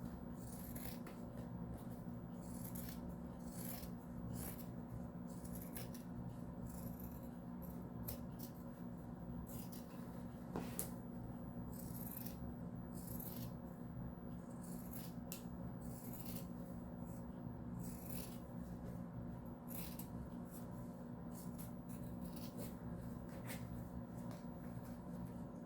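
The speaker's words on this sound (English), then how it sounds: "Now I'm going to trim my seam allowance down to about 1/4 of an inch, just to take some of the thickness out of that lining." Scissors snipping and trimming the seam allowance of a fabric lining, a long run of quiet, repeated cutting strokes in steady rhythm over a low indoor hum, no talk.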